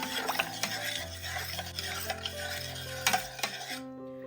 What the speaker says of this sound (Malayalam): എല്ലാം കൂടിയിട്ട് ഒന്ന് ഇളക്കി യോജിപ്പിക്കാം.